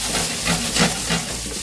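Mini eggplants grilling in a pan with olive oil over low heat give a steady, close sizzle and hiss with gentle crackling pulses and no talk.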